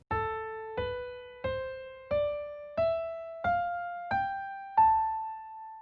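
An Aeolian mode scale played note by note, eight evenly spaced plucked or keyboard-like tones stepping upward, clear and solo with each note decaying before the next.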